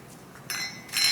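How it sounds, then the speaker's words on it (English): Small bells on a Christmas wreath jingle in two short bright bursts against a quiet room. "And now I'm gonna add, you can hear them already, the bells."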